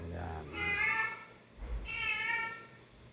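Two loud, close meows from a house cat in a home kitchen during stir-fry cooking, separated by a short pause, with a low thump between them.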